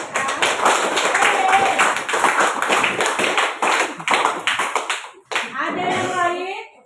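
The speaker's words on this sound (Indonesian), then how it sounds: "terima kasih tepuk tangan" A classroom of children claps hands together after a student speaks, with dense, fast overlapping claps sustained for several seconds. The clapping fades briefly and is followed by kids' voices chattering.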